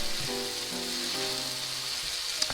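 Sambal, a chili paste, sizzles steadily as it cooks down in a pan, a dense continuous frying hiss close up, with a few faint clinks near the end.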